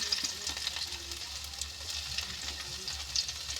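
Chopped garlic frying in a hot kadai (wok) gives a steady, close sizzle with faint crackles and a low stove hum underneath, no voices.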